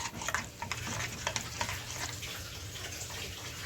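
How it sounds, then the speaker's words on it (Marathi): Red chilli powder, garam masala and coriander powder are stirred into a vegetable mixture in a pan, giving soft, uneven scraping and light sizzling with a few sharper clinks and no speech. "हे सर्व मसाले घालून आपल्याला मिक्स करून घ्यायचं आहे"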